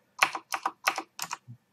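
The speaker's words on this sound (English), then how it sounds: "we are going to test if Java is installed by typing the command java" Short bursts of keystrokes on a computer keyboard, four quick clusters of crisp clicks followed by a softer single tap, close and isolated with no talking.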